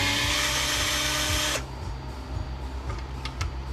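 A loud, steady whine from an old power drill working on a Honda ATV brake caliper. It runs for about a second and a half, then cuts off, leaving faint rustles and light clicks.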